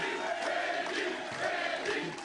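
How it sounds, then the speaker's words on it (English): A large crowd cheers and roars steadily inside the arena at the PBA Tour Finals bowling event, a dense, continuous wall of voices without pause. "What a crowd, what an atmosphere."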